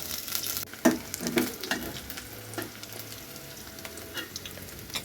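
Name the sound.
chopped onion and garlic frying in oil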